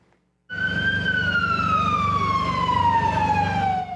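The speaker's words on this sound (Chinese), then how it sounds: "救护车甲消防车的声音，再加上围观民众的吵闹声。" A single emergency siren, from an ambulance or fire engine at the scene of an airstrike in central Beirut, starts abruptly after a brief silence and wails loudly and steadily with a slowly falling pitch over low background rumble. No crowd noise stands out.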